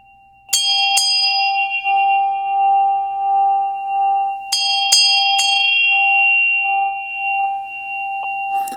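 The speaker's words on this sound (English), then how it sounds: "it's a ghanta. And it's got a clapper in it. It has auspicious symbols around it. It makes a really nice sound." Buddhist ghanta hand bell with a clapper, struck in two clusters of three quick bright rings, each leaving a long, pure, wavering tone that slowly fades, close and clear with no talking.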